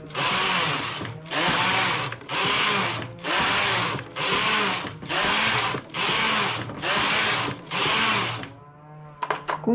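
A knitting machine carriage makes nine repeated passes knitting a sleeve, each a loud whirring, clattering sweep with brief pauses between, ending with a lighter rattling of the machine.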